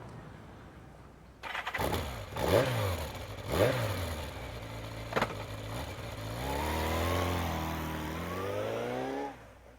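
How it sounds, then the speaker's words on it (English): A video game motorcycle engine starts with a couple of sharp revving bursts, then settles into a rising, steady drone as it rides away, loud and alone before cutting off. "I get on my motorcycle and drive straight back to my apartment."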